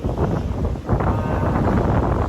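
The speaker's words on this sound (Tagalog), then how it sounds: "Sobrang hangin talaga dito." Strong seaside wind on Jeju Island, South Korea, buffets the microphone in heavy, rumbling gusts, loud and close for a couple of seconds.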